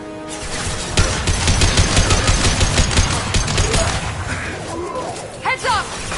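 Gunfire in Mass Effect 2 Legendary Edition: loud, dense bursts of rapid shots rattle on for several seconds, with voices and other combat noise mixed in, before tapering into scattered effects.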